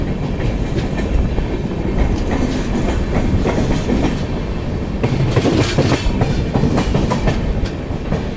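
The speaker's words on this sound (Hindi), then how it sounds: "इस वजह से जो हमारी ट्रेन है उसने स्पीड अप करना स्टार्ट कर दिया" The Rajdhani Express, Bangalore to Delhi, rumbles steadily along the rails as it speeds up, wheels clattering in a continuous rhythm at speed, loud and close with no voices.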